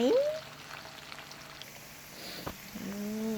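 Pieces of meat frying in hot oil, giving a soft, steady sizzle beneath brief cooking noises and a few tonal squeals from nearby utensils or movement.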